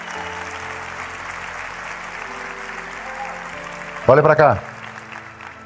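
A church congregation applauds as a soft, diffuse wash of clapping beneath sustained keyboard chords, and then a voice briefly speaks over it near the end.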